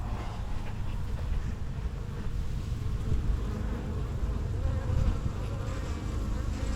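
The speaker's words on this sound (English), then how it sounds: "if the bees do decide they want to leave the colony, they'll all march" Wild bees buzzing densely and continuously around a hive, a close, steady swarm drone that stays loud throughout without pauses.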